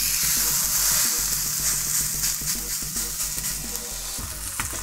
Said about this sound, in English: I have a cast iron skillet ready to go, and we're going to give it a quick sear.